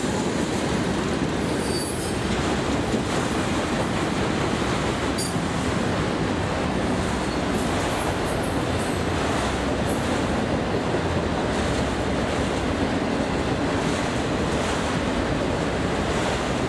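Freight train Q457 rolling past on the tracks at Folkston, a loud, continuous roar of wheels and railcars with occasional high squeals, steady throughout.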